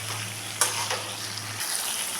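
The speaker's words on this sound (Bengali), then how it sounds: "টমেটো দিয়েও খানিকক্ষণ কষিয়ে নিলাম" Chicken pieces with chopped tomatoes sizzle steadily in hot oil in a pan for an Achari chicken curry, with a brief clink of stirring partway through.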